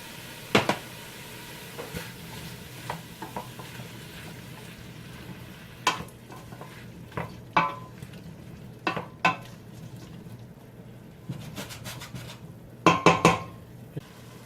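Tomatoes cook in a pan for homemade pizza sauce with wine, a soft steady sizzle underneath scattered clinks and scrapes of a utensil stirring against the pan, fairly quiet with no talking.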